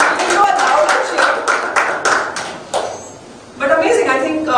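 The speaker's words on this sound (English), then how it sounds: "a louder cheer" Applause and cheering from a UX design workshop audience, a dense burst of many hands clapping with voices mixed in, holding steady, fading briefly, then swelling again near the end.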